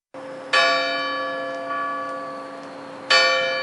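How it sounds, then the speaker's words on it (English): A large bell tolls with deep resonant strokes, two loud strikes a few seconds apart, each ringing out in a long humming decay. "The bell struck 12."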